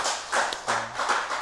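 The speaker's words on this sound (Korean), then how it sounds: "우리 박수 한번 쳐주세요." Brief, faint applause from a church congregation, a few soft, loose bursts of clapping that sound sparse and a little distant.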